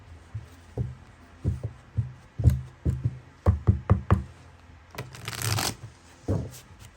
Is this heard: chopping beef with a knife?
no